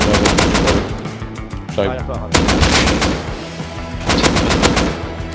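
AK rifle fire in the video game Rust: loud, close bursts of rapid automatic shots, broken by brief pauses, with a voice speaking briefly in between.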